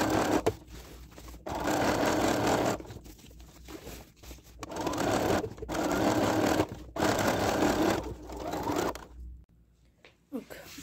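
A sewing machine topstitches a fabric bag in several steady, fairly close whirring runs broken by short pauses, with quiet handling noises between them.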